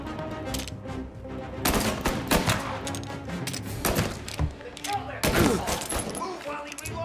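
Gunfire in Mafia: Definitive Edition: a heavy firefight with overlapping bursts and single shots, loud and constant and at times near, while shouted voices break in between the volleys.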